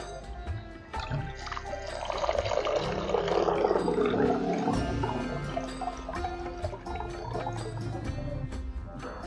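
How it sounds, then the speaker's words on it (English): Water sloshes and swishes continuously as rice is stirred and rinsed for dosa batter, a steady wet churning close by, with no talking. "Wash the rice till the water is clear."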